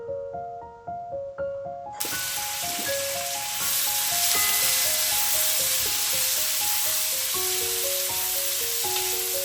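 Chopped onions fry in hot oil in a pan for a duck curry, a loud continuous sizzle that starts abruptly after a few soft clinks, with faint tonal ringing from the kitchen throughout.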